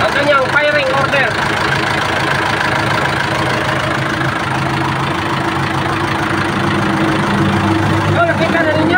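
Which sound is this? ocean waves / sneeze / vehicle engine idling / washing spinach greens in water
vehicle engine idling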